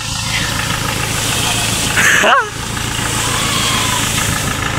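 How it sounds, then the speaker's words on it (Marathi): A tractor engine runs at a steady idle nearby, a constant low rumble and vibration with a brief louder swell partway through, faint voices in the background. "हे पा ट्रॅक्टर घेऊन चालले घरी"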